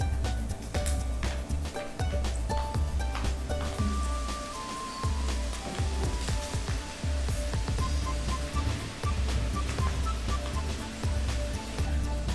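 Okra pieces coated in gram flour deep-fry in hot oil, a steady, dense, rain-like crackle and bubbling that stays loud and close throughout without pause.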